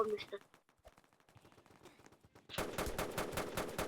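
Rapid automatic gunfire in a video game erupts in dense bursts after scattered softer shots and clicks, with a voice briefly audible at the start.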